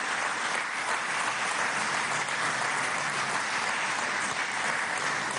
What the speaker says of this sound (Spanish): pido para ellos un aplauso caluroso de hermandad